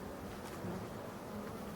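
An Asian hornet hovers in place in front of a beehive, a faint, continuous buzzing hum with the low drone of nearby bees, quiet and close, without speech.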